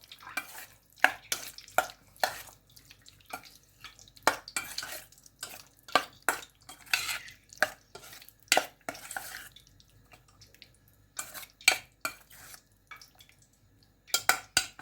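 Plain yogurt being mixed with shrimp in a bowl, a series of quiet, irregular spoon clinks and wet stirring strokes, close by with short pauses between bursts.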